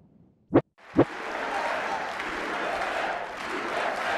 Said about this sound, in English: Applause and chants of USA were heard as Republican Kevin McCarthy secured enough votes needed to lead the US House of Representatives